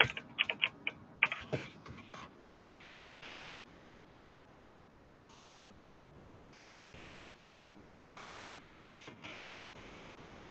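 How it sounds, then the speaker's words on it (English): A rapid flurry of keystrokes on a computer keyboard opens, clicking sharply for about two seconds, then fades to sparse, faint taps over a soft noisy hiss. "And then, of course, I start typing too soon."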